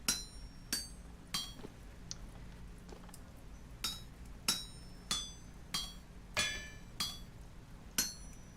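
Smithing hammer striking metal in the video game Vintage Story, a dozen sharp metallic clinks at an uneven, steady pace over a quiet background.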